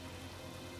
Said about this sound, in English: Created artificial rain.